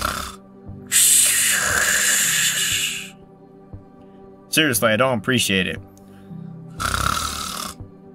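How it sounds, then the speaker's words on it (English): A person snores in two long, rasping, breathy bursts with a quiet gap between them. A voice speaks in that gap. "Dude, stop snoring."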